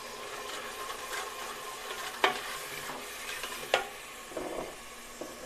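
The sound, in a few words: frying tomatoes with salt, chili and cumin spices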